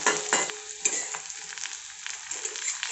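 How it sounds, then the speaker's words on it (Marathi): Ginger and garlic sautéing in a pan while cooking a mutton rassa, a soft steady sizzle with brief scrapes and stirring clatter throughout, no voices. "आलं आणि लसूण थोडंसं परतून घ्यायचं एक मिनिटभर जास्त नाही परतायचं"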